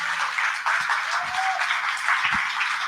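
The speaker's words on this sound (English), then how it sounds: "Another round of applause for Nedbank." An audience at a women's conference applauds in a dense, steady wash of clapping that holds at an even level throughout, with no voices standing out.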